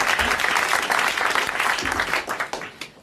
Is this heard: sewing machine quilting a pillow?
no